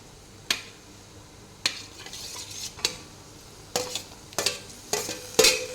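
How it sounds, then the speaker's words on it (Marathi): Tomatoes sautéing in oil with onion and green chili, heard as a series of separate sharp stirring scrapes and brief sizzles in a pan, spaced a second or so apart over a quiet background. "टमाटर आता दोन मिनिट पुन्हा परतून घेणार आहे"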